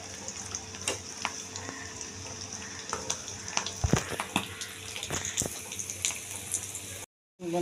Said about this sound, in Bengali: লাল করে গোল্ডেন করে ভেজে নেব আমি